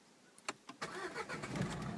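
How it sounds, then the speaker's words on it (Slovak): A Renault Megane's engine starts inside the car. A couple of starter clicks lead into a cranking whir, and the engine then catches and settles into a steady, close, mid-pitched idle. "Auto naštartovalo, počul si?"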